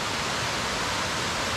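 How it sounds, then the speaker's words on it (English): Steady broadband rush of a waterfall on the Appalachian Trail near Mount Greylock, Massachusetts, a continuous even roar with no voices over it. "Wow, waterfalls."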